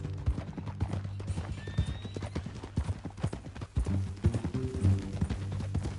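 Horse hooves clip-clop steadily in a Western ranch video game, with a neigh and whinny breaking in, all over a low background score.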